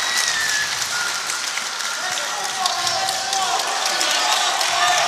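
A crowd at a Polaris 33 grappling event cheers and claps in a sustained wash of noise, with faint tonal sounds and voices drifting over it.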